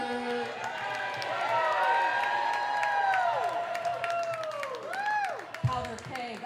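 A crowd at a live wrestling event applauds and cheers, with clapping under whoops and shouted voices that sweep up and down, steady throughout.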